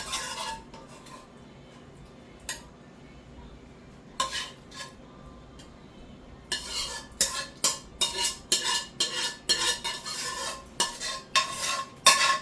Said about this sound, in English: I'm going to add my leftover sauce to it.